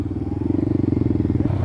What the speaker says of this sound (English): Listen to that exhaust, man.